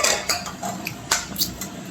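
Cutlery scraping and clicking on a plate while a fried T-bone steak is sliced, with short metallic taps and scrapes heard close up and no talking.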